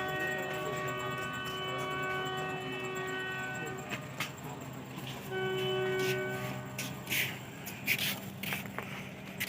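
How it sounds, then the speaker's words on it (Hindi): The Down Thal Express leaves Sanawan station at night in stormy weather and passes the Sanawan level crossing. Sustained horn tones sound over a steady rumble of rolling wheels, followed by a second horn blast and some sharp rattles. "BS80-78 के साथ 130 डाउन थाल एक्सप्रेस का डिपार्चर मेरे ख्याल में हो गया सनामा स्टेशन से।"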